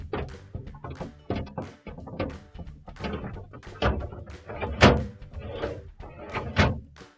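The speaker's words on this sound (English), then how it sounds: "Now we're going to put our crisper drawers back in." A Maytag refrigerator crisper drawer, its wheels lined up on the side tracks, is pushed back in, giving a series of close plastic rattles and thunks, with a few louder knocks near the end.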